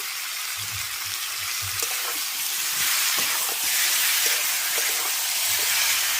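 Fried potatoes with salt are stir-fried in a pan of oil for a spicy fish and potato curry, giving a loud, continuous sizzling hiss with scattered spoon scrapes and taps throughout.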